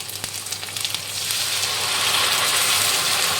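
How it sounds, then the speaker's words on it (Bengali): Ginger-garlic spice paste for chicken curry frying in hot oil, a steady close sizzle that swells and thickens after the first second, with a few light scraping clicks early on and no talking. "ভালো করে এখন পুরো মশলাটা যতক্ষণ না তেল ছাড়ছে ততক্ষণ অবধি এখন মশলাটা কষাবো"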